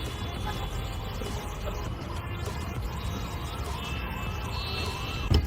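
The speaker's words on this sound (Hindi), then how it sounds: "अभी हम रुके हुए हैं ट्रैफिक में, और कोई एम्बुलेंस वगैरह जा रही है।" An ambulance siren wails in a repeating rise-and-fall pattern over the steady rumble of stopped road traffic, moderately loud and continuous.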